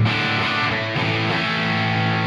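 Distorted guitar amp recorded silently through a Suhr reactive load with Two Notes Wall of Sound cabinet emulation, a thick, smoother held chord ringing loud and steady for two seconds, then stopping sharply.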